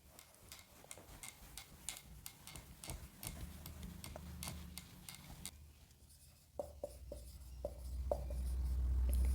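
A teacher writes notes on a classroom board during a physics lesson, a steady run of quick tapping, scratching strokes for several seconds, then fewer, sharper knocks, with a low rumble swelling toward the end.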